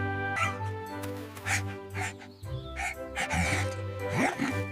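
Bruno, a cartoon bulldog, gives a run of loud, close yips and barks mixed with whimpering sounds, with some bird-like chirps in the background.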